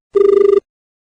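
A single short telephone ring for a farmers' radio call-in show, a bright buzzing electronic ring lasting about half a second, clear and close, followed by silence.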